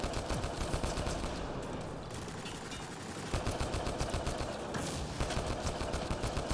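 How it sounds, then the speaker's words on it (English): Rapid bursts of automatic gunfire from the video game Mass Effect Andromeda, dense and continuous, with a brief lull midway before the shooting resumes just as intensely. "I feel like I want to turn down the sounds of the gunshots a little bit"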